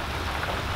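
Steady thunderstorm rain patters densely on a sailboat, a continuous hiss with no voices.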